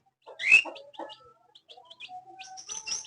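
Chicks and cockatiels call close by, with a sharp squawk early on followed by scattered high chirps, peeps and clucking sounds, plus a sustained whistle-like tone, and no talking.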